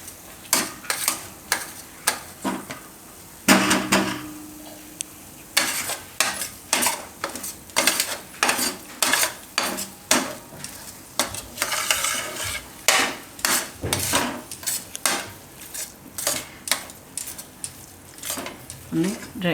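Chocolate laddu mixture being stirred and scraped from the sides of a pan, with repeated close scraping strokes in irregular bursts and occasional clinks of utensil on metal.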